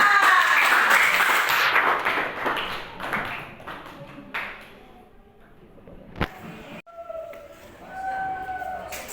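A school class clapping hands on a teacher's cue, a burst of many hands at the start that thins out and stops, leaving a quiet room with a few taps and faint tones.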